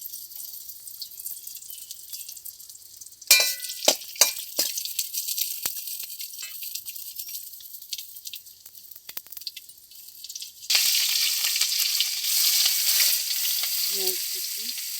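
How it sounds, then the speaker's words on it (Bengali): Peanuts fry in a pan for chowmein: a soft steady sizzle with sharp stirring clatters partway through, then a louder, denser frying hiss that swells up near the end. "বাদামগুলো ভেজে নেই, চাউমিনে দেবো"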